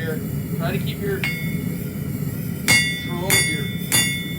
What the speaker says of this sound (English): control of your hammer.